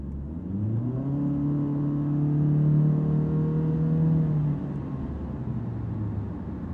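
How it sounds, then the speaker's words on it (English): A 2024 Honda Civic LX with a four-cylinder engine and CVT accelerates, its close, steady engine drone climbing in pitch and then holding level before easing off, with no talk. "So it definitely sounds like a CVT"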